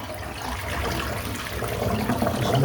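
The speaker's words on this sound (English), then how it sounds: "Just rinse my head off." Water splashes and trickles close by as a freshly shaved head is rinsed, a soft continuous wash of running water with no talking.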